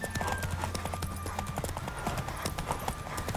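Horse hooves clip-clop in a steady, fairly close rhythm through a scene in The Witcher 3 video game, with a faint whinny and soft game ambience beneath.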